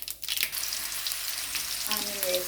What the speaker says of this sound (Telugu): ఇలా ఆనియన్ కొంచెం కలర్ వచ్చేంత వరకు ఫ్రై చేసుకున్నాము.